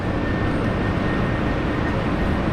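A heavy airliner rolls for takeoff at Brisbane Airport, its engines making a loud, dense, continuous roar that stays close and constant the whole time.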